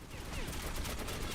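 Continuous burst of video game gunfire, a dense, loud rattle of shots filling the whole short moment.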